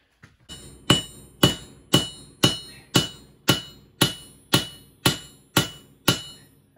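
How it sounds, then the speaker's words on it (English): A ball peen hammer strikes metal about a dozen times in a steady rhythm, each sharp clang ringing briefly before the next blow, close and clear. "Ball peen hammer"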